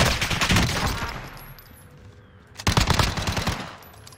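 Automatic gunfire in Call of Duty Warzone comes in two loud, close rapid bursts separated by a short lull.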